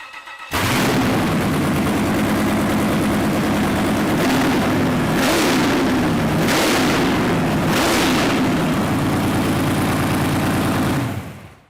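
A Gen 3 Camaro engine, run without coolant, cranks and fires, then settles into a loud, lumpy idle broken by several sharp throttle blips, all close by and without talk.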